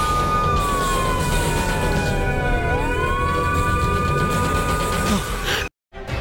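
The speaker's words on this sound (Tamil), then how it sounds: "என்னடா போலீஸ் சைரன் கேக்குது?" A loud wailing police siren rises and falls continuously over traffic noise, close by, before cutting out briefly near the end.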